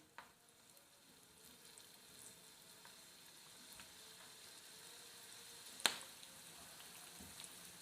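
Cornflour-coated vegetable manchurian balls fry gently in oil over low heat, a faint, steady bubbling sizzle with a sharp click or tap near the middle.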